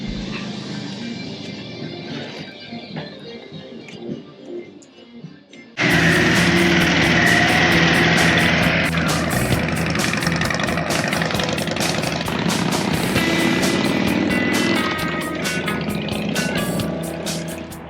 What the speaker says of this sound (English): it's finally time to test ride this flying two-wheel ass slider and see if it'll get a passing grade from Ch